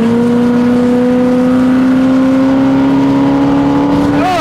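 The 454 V8 of a 1973 Chevrolet Corvette revs hard, its loud, close engine note climbing steadily in pitch across the whole stretch, with no talking over it.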